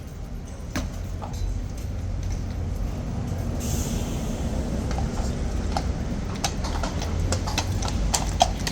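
Steady clip-clop of horse hooves on a hard surface, with sharp evenly spaced strikes over a constant low rumble of background noise.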